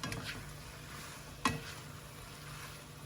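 Spring onions, celery and chilies stirred in a hot wok with prawns and squid: a steady soft sizzle with a single sharp scrape of the utensil midway, close and fairly quiet, with no talk.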